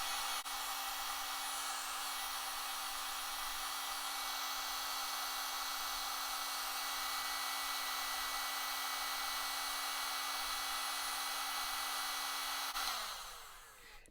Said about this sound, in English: So I'm going to pull out the heat gun again.